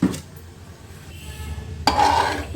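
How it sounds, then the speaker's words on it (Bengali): A spoon stirring vegetable chicken curry with added water in a cooker pot, scraping and clinking against the metal with light sloshing, a brief knock, then a louder stretch of stirring near the end. "জলের সঙ্গে সবটা ভালো করে নেড়ে মিশিয়ে দিলাম"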